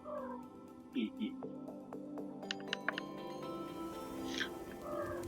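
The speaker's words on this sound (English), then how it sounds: "What's up, kitty?" A cat meows a couple of times in the Spyro Reignited Trilogy game, short mid-pitched calls over a steady game soundtrack, with a few bright chimes and a voice speaking nearby.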